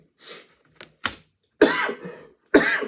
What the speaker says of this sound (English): every time I try to, I cough.